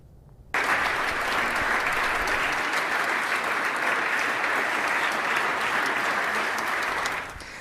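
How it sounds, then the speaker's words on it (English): Lawmakers in a legislative chamber applaud House Representative John Hawkins, a dense, steady burst of clapping that starts abruptly after a brief quiet moment and holds at full strength for about seven seconds before easing slightly. "that's lawmakers applauding House Representative John Hawkins"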